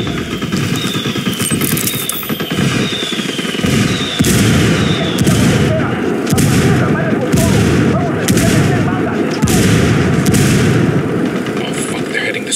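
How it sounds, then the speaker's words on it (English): Mortar fire in a video game, heavy booms and blasts repeating at irregular intervals over a dense battle din, loud and continuous, with voices mixed in. "Call Pacatari for some mortar fire."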